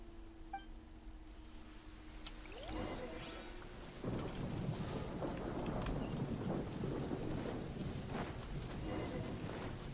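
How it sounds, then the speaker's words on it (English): A lightning storm in Genshin Impact: rain hisses steadily while a deep thunder rumble swells in and keeps rolling, loud and close, with no voices. "Uh-oh! Lightning storm!"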